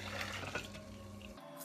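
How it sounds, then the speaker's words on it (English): Tea pours through a strainer screen, splashing steadily for a moment, then trails off abruptly, with no voices. "now what I'm going to do is I'm going to pour it through the screen"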